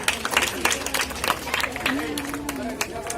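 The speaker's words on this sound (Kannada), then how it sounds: "ಎಲ್ಲರೂ ಚಪ್ಪಾಳೆ ಮುಖಾಂತರ ಅವರಿಗೆ ಆಗಮಿಸಬೇಕು" Audience clapping to welcome guests at a cleanliness drive event, a brief burst of scattered hand claps mixed with crowd murmur and a voice speaking over it.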